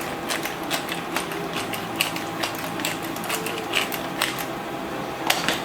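A pepper mill cracks black pepper in a kitchen, giving a quiet series of sharp ratcheting clicks in an uneven rhythm.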